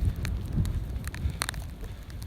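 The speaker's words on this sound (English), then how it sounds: "and the rain." Rain falling on a mountain trail in southwestern Virginia along the Appalachian Trail, a steady broadband patter with scattered louder drops, close and continuous with no talk.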